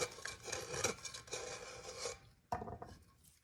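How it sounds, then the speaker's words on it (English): A knife blade scrapes along the top edge of cured epoxy coated with chunky glitter: close, gritty scraping strokes with a short pause before a final pass. "I'm also going to take my knife, run it along the top,"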